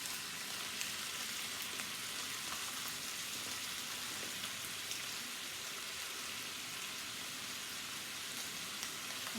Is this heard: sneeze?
no